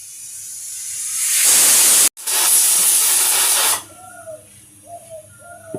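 Chickpea dal hitting hot oil bursts into a loud, close sizzling hiss that holds for about two seconds, breaks off briefly, then roars again before settling into quieter crackle with a few faint tones behind.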